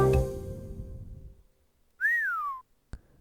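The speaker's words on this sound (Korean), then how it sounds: "휘파람 소리가 이 방에서 들린다." A single clear whistled note rises and then glides down, heard in the hotel mystery game Hotel Dusk: Room 215 on Nintendo DS after a fading background noise, followed by a short sharp click, with no talking.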